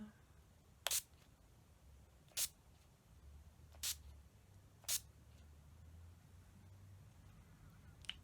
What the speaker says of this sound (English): last thing we're going to do is set it with a matte setting spray